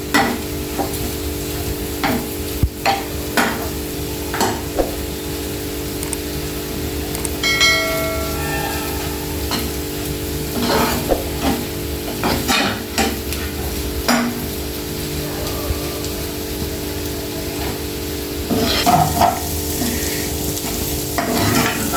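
Onions stir-fry in a pan for egg curry, a steady sizzle broken by frequent scraping and clanking spatula strokes, with a brief ringing metallic tone partway through.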